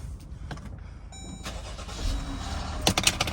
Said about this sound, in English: I'm gonna start this one up.